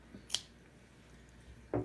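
A couple of quiet, crisp snips from small scissors cutting fabric, spaced apart against a faint background.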